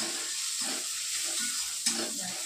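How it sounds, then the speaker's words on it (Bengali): Onions sizzle and fry in a pan for pulao, a steady close hiss with soft stirring scrapes and one sharper clatter near the end. "ওই যা পেঁয়াজ বোধহয় পুড়ে গেল, একটু লালচে করেছে, পোড়া লাগেনি।"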